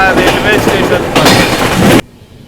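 Poorva Express passenger train rolling toward Mughal Sarai station, a dense steady rumble with faint clickety-clack from the carriage that cuts off abruptly near the end, with a voice faintly under it.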